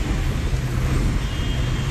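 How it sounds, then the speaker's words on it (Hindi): Heavy rain pours steadily on a roadway as people shelter beneath a bridge in Pakistan, a dense continuous hiss joined by a low rumble. "नहीं बारिश शुरू है"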